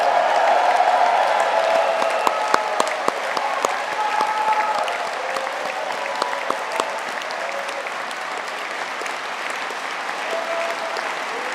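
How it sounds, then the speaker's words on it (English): A large crowd of graduates and guests cheers and applauds at a University of Southampton graduation ceremony in a big hall, with a loud roar of whoops and voices at the start giving way to sustained, reverberant clapping. "Can we all hear a loud cheer for our Ocean and Earth Science graduates?"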